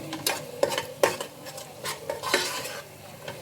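Tomatoes fry gently in oil over a low flame for tomato bath, a soft sizzle broken by several distinct spoon stirs and metallic clinks against the pan, close and fairly quiet.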